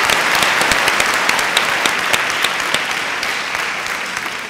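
A studio audience on the Thai show Super 10 claps to welcome a guest, dense and loud applause with sharp individual claps standing out, continuing steadily for several seconds with no speech over it.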